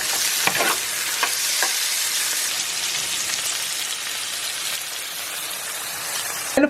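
Pizza topping mixture with pepper being stirred, a steady close scraping-sizzle texture running without pause, with a few soft knocks near the start and a sharper clatter at the very end, no talking.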